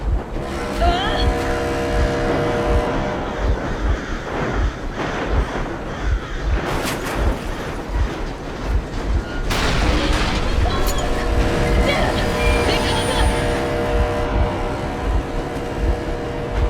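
A vehicle engine idling and rumbling steadily in Metro Exodus, a low continuous drone running beneath voices talking, with a few surges and clanks along the way.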